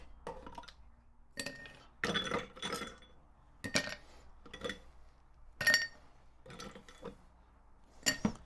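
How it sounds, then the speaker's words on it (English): Ice cubes are loaded into a stirring glass for a stirred cognac cocktail, giving a series of sharp clinks and rattles in irregular bursts over several seconds, close and clear with no talking. "we're going to load up our stirring glass with some ice"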